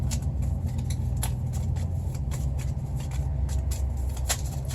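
A truck engine idles at a truck stop, a steady low rumble that holds throughout, with faint scattered clicks and rattles above it.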